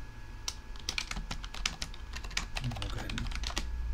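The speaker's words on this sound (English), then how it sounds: "Type in a little description." Typing on a computer keyboard, a steady run of close, crisp key clicks with uneven rhythm and a few short pauses, heard alone over a low hum in a quiet room.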